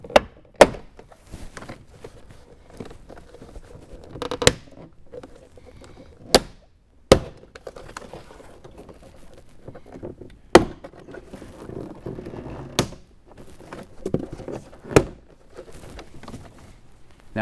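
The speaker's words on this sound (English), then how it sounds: "start pulling out to free up the door panel." Sharp plastic pops sound one after another, about nine scattered snaps of Toyota Tacoma door panel clips releasing, separated by quiet rustling and handling noise.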